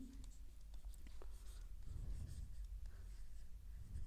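Chalk or marker scratches steadily on a classroom board during a math lesson on probability, a continuous rough writing texture with brief strokes over a low room hum.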